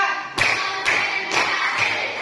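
A class performs a counted clapping routine: four loud, evenly spaced claps from many hands in unison, each ringing briefly in the room.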